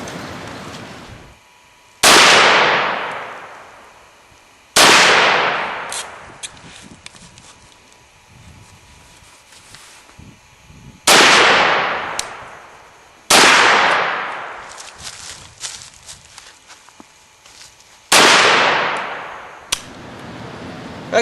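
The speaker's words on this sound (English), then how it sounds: "I fire 2 rounds at the top one" Rounds fired at targets: five loud, sharp gunshots spaced a few seconds apart, each trailing off in a long echoing decay before the next.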